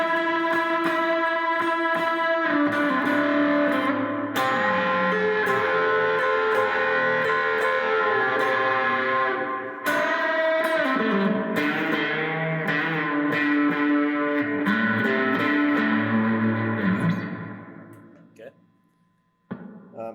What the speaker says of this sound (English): I'm going to turn on my distortion pedal now